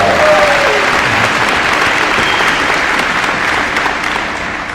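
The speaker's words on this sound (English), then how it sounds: "So let's give her a big round of applause." An audience at a high school grand opening celebration claps in a steady, dense round of applause that slowly fades toward the end.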